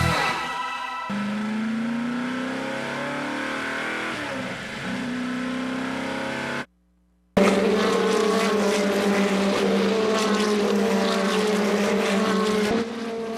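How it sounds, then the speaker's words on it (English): IndyCar race cars at WeatherTech Raceway Laguna Seca during the Grand Prix of Monterey: a loud, sustained high engine whine drops out briefly near the middle, then returns louder and richer as cars pass close by. "That's the sound of IndyCar making its highly anticipated return to the Central Coast."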